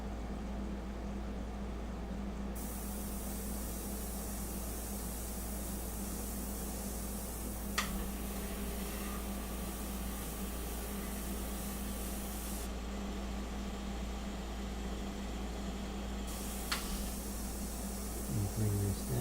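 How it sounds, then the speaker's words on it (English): An airbrush sprays a medium paint mixture in a long, steady, soft hiss of air that runs on throughout, quiet and close, with a couple of faint clicks. "come in with the medium mixture here with the airbrush"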